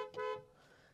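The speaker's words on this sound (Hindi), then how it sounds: "ड्यूल टोन में आपको किया का जो सिग्नेचर साउंड है ना हॉर्न का, वो आपको यहाँ पर मिल जाता है।" A brief dual-tone horn blast from a 2022 Kia Seltos HTE diesel SUV, a single short honk heard up close that fades quickly, with no one talking.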